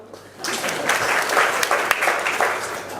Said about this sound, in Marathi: टाळ्या वाजवा बरं